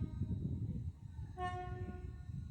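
A TransPennine Express train near York station sounds its horn once midway, a short bright tone over the steady low rumble of the moving train nearby.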